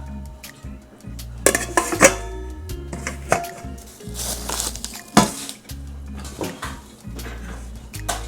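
Cooking pots, pans and a wooden chopping board being handled at a Philippine market appliance stall, with irregular clanks, clinks and knocks, some sharp and close, others softer, amid quiet background.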